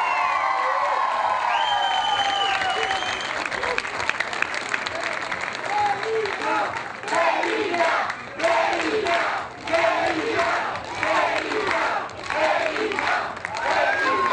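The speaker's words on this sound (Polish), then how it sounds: "Wielkie brawa, trzymamy kciuki." A large outdoor crowd in a town square applauds and cheers at a celebration for a women's basketball team's national championship, sustained loud clapping with whoops and shouts, and an announcer's voice over a loudspeaker partly underneath.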